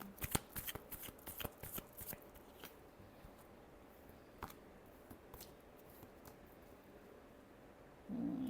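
Tarot cards are shuffled close by in quick, crisp riffling bursts, then a few softer, sparser flicks and slides of the deck, with no talking.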